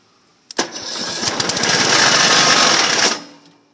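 A small engine starts with a sharp pull, revs up into a loud buzzing roar for a few seconds, then abruptly dies as it seizes from a broken rod or bearings.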